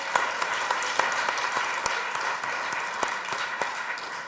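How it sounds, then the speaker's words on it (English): An audience at a provincial legislature event applauds steadily, a dense, fairly quiet wash of clapping with a few sharper individual claps standing out, and no one speaking over it. "I want us to give the Provincial Legislature a round of applause."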